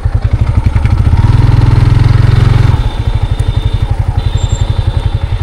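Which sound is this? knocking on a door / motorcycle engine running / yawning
motorcycle engine running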